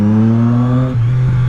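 A Triumph Street Triple S motorcycle engine revs hard, then the pitch drops sharply as it shifts up a gear and carries on pulling, loud and close with no voices.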